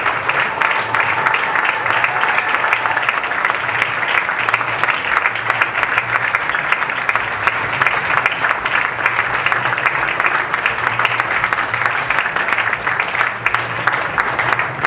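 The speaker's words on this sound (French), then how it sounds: "Dr. Yona Likongo, sous vos applaudissements." Sustained applause from a large gala audience at an award ceremony, steady and dense throughout, with a faint murmur of voices beneath.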